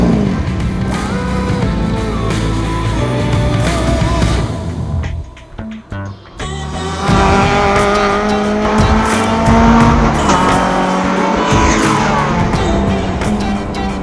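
A Citroën Saxo VTS 16V small sports car driven hard on a race track, its engine loud and close throughout, with a brief dip around a gearchange or corner before the revs climb again; no one speaks.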